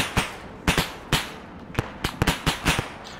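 Video game firefight with a frag grenade thrown back: a rapid run of sharp, loud cracks and bursts, about ten separate impacts spaced irregularly over a few seconds, each snapping out and decaying quickly.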